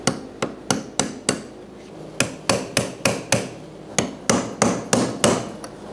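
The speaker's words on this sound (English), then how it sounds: "using the tool or a punch, we'll just punch it back, tighten it down." A punch is hammered to tighten the lock ring on a fuel pump module of a 2011–2018 RAM 1500 3.6L, about fifteen sharp metallic strikes in quick uneven bursts, loud and close with no talk.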